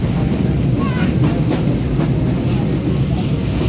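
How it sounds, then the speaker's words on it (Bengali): Fast passenger train heard from inside a carriage as it pulls away, heading toward Khulna: a steady, loud rumble with faint rhythmic rail clatter running throughout. "ট্রেন ছেড়ে দিচ্ছে, এই ট্রেনটা অনেক ফাস্ট।"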